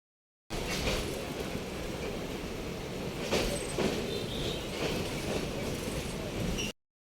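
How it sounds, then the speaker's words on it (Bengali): A Dhaka-to-Khulna passenger train rolls along, its continuous rumble and rattle of wheels and carriages heard from inside, steady and fairly loud with occasional clanks and no clear talk. "ট্রেন ছেড়ে দিল, চলতে শুরু করলো আস্তে আস্তে"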